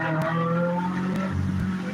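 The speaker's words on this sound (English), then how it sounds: "That car's going fast." A car speeds along a town road with tires skidding and squealing, engine tone sweeping steadily and loud throughout, no talk over it.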